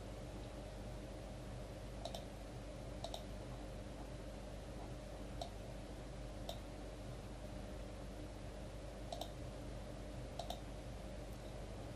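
Computer mouse clicks during a software demonstration, faint sharp single and double clicks spaced a second or two apart over a steady low hiss.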